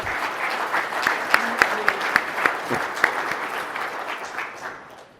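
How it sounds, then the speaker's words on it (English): Audience applause at a live interview event, a steady round of many hands clapping with several crisp, loud claps punctuating it near the front, fading out toward the end with faint voices underneath. "let's give them a round of applause"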